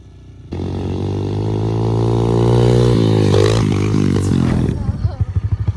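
A Yamaha dirt bike ridden by kids revs hard over a jump. A loud, close engine drone rises steadily and holds, then breaks into choppy pulses as the throttle drops near the end.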